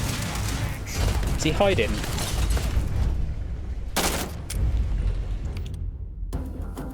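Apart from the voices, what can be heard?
gunfire in Starfield video game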